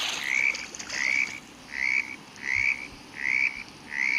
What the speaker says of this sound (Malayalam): തവള ഒച്ച ഉണ്ടാക്കുന്നുണ്ട്.